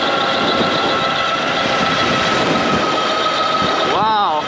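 Strong wind buffets the rider of an Ariel Rider Grizzly e-bike, making a loud, steady, broadband roar that lasts throughout, with a brief voice near the end.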